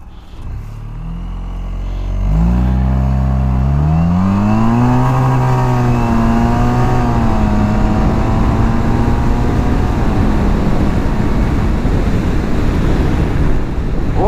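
Suzuki Burgman 650 scooter in manual mode accelerating hard from low speed, engine note climbing through gear steps then holding a steady loud drone with heavy wind rush, close and continuous, no talk.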